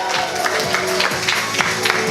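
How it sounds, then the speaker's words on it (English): An audience at a talent contest semi-final applauds a singer, with dense clapping and crowd noise running under a steady musical backing throughout. "Just give her a massive round of applause"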